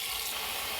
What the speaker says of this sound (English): And now cover it with water.